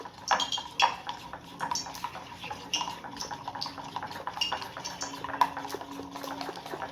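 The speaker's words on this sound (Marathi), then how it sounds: "आपण चिमूटभर सोडा घालून घ्यायचा आहे आणि व्यवस्थित हलवून घेऊया" A utensil clinks and scrapes against a bowl in a steady rhythm, close by, stirring potato bhaji batter with a pinch of soda, with no talking.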